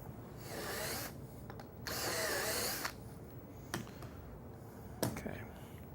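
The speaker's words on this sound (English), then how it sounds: "I'm just going to repeat the drilling for the other side." A power drill boring holes into a cabinet panel while building simple face frame cabinets, heard in two sustained whirring runs of about a second each, followed by a few short clicks and knocks against quiet room noise.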